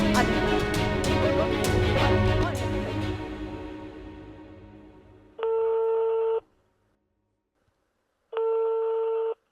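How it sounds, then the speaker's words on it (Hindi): A telephone call goes unanswered: after fading tones, two loud, evenly spaced electronic ring bursts sound close and clear, each about a second long with a pause between. "अम्मी फ़ोन ही नहीं उठा रही"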